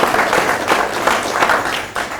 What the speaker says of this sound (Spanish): el ingeniero Pablo Lázaro, para quien pido un aplauso